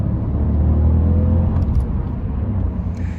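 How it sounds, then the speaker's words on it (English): A Honda Civic's 1.0 VTEC turbo engine rated at 127 horsepower runs with a steady, deep, close rumble and a faint whirring hum, holding an even level with no talking. "And that engine, this is, as we were saying, the 127 horsepower engine."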